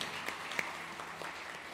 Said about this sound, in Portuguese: Você pode aplaudir Jesus mais uma vez?